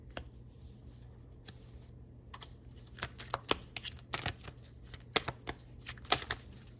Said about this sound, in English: I need to get some more cards out.